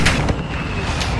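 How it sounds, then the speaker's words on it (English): Mortar strike explosions in a combat video game, a sharp blast near the start followed by a second booming impact, with rumbling debris and steady background noise between hits. "Mortar strike inbound now."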